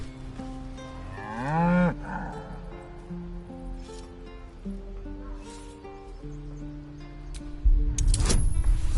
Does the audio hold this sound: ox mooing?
yes